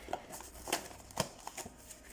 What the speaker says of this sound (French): c'est la toute première fois que j'ouvre ces boîtes là